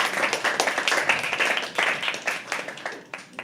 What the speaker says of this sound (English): Let's give a huge round of applause, Mr. Bhupendra Singh.